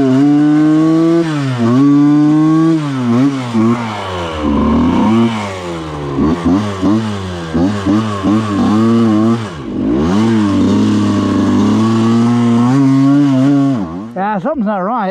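Yamaha YZ125 two-stroke dirt bike engine running rough, loud and close, with a wavering, surging buzz that rises and falls unevenly for the whole stretch before cutting off near the end.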